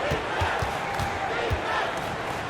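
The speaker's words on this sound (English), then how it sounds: "Give your Lakers youth dance team a big round of applause." A Lakers home crowd in the NBA 2K basketball video game keeps up a steady, loud roar for the whole stretch, with a few low ball bounces thudding underneath.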